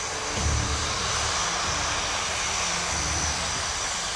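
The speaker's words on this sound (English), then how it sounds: "the Twin Otter didn't need to choose between wheels and skis because it decided to bring both" A Twin Otter airplane fitted with both wheels and skis drones overhead in a steady, loud, broadband roar of engines and airflow, filling the whole stretch without pause.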